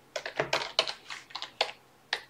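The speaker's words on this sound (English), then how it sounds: "Instead, I'm just going to type in add MVC, use MVC." Quick bursts of keystrokes on a computer keyboard, about a dozen close, crisp clicks in uneven clusters with a brief pause before a final tap, heard alone.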